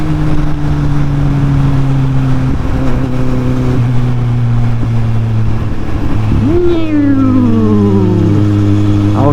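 A motorcycle ridden on a road in south east France, its engine droning steadily close by under wind roar, with the pitch dropping and then rising again as the rider shifts and accelerates.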